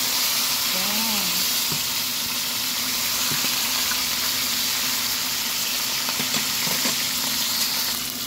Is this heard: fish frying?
yes